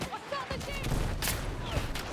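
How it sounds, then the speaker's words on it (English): Light machine gun fire in Battlefield 6 crackles in bursts of rapid shots mixed with distant battlefield gunfire, loud and continuous throughout. "Is that guy with the LMG still shooting at me?"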